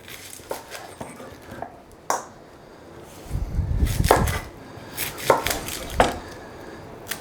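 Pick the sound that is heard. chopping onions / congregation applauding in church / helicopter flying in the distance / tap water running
chopping onions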